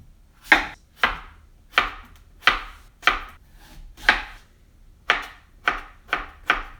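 A santoku knife chops fruit on a cutting board in about a dozen crisp, close knocks, evenly paced at first, then a short pause and a quicker final run, with nothing else heard.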